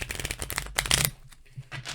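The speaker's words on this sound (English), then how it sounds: "Let's give it a shuffle." A small Rider Waite tarot deck is shuffled by hand in quick crisp riffles and flutters, close and alone, with a short pause before a few more card slaps.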